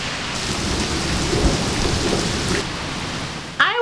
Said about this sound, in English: It's a rainy day in the neighborhood today